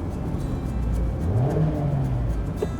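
A 2023 Mazda MX-5 RF engine hums from inside the cabin while downshifting gears, a steady drone that rises in pitch as revs climb, with a small click near the end.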